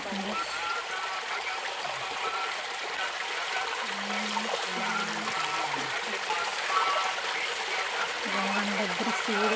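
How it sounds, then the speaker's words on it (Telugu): Steady, soft flowing water from a small forest stream runs throughout, with a faint low hum intermittently in the background. "చిన్న ఫ్లో ఉంది ఫ్రెండ్స్ అసలు ఈ వాటర్ ఎక్కడి నుంచి వస్తుందో కూడా తెలీదు"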